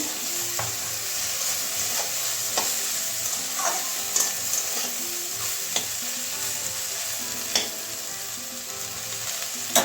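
Brinjal fries in a pan over medium heat with the lid opened and is stirred, giving a steady close sizzle broken by scattered scrapes and clicks of the utensil.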